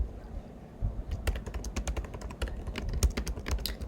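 Someone types on a computer keyboard, tapping keys in quick irregular bursts close up, with a short quiet stretch before the clatter starts.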